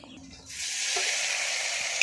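Spices with black cumin seeds and green chillies hit hot oil in a frying pan, bursting into a steady sizzling hiss after a quiet start and holding throughout, close and fairly loud.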